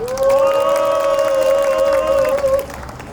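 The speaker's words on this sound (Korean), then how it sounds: "김진희 사무국장께 힘찬 박수 보내주시기 바랍니다" A crowd at a construction workers' rally and culture festival outside Suwon Station cheers and applauds, with a loud, sustained tonal shout riding over dense crowd noise for about two and a half seconds before fading.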